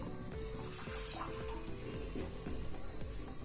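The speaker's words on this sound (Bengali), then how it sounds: "চিনির সাথে সামান্য পরিমাণ পানি দিয়ে দেব।" Water trickles and splashes steadily into a pan of sugar on a stove as caramel is started, a soft, continuous pouring sound with faint clinks, heard alone at low level.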